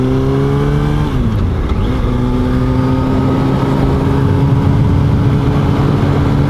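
A motorcycle engine runs steadily while riding, a loud close drone with a brief dip in pitch around a gear change, then a sustained even hum continuing to the end with no talk.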